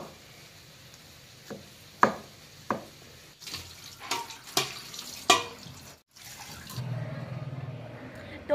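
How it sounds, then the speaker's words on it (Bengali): Sharp knife strokes as a mother chops coconut palm heart into small pieces, a series of distinct close chops at irregular intervals, followed by running water from a tap. "তো মা এখন ওটা কাটছে কেটে ছোট ছোট টুকরো বানাচ্ছে"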